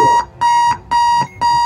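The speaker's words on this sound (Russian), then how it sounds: "это будильник" An alarm clock in the bomb-defusal game Keep Talking and Nobody Explodes rings in loud, steady electronic beeps, four even bursts in quick rhythm with short gaps between them.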